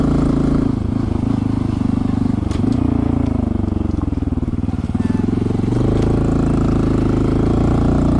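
A Honda CT 125 motorcycle ridden off-road, its engine loud and close with a steady thrum that dips briefly and rises again, over wind noise.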